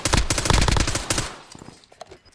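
Enemy gunfire in Call of Duty: Warzone: a loud, dense burst of rapid automatic shots for about a second, then a few scattered sharper cracks and fainter shots trailing off.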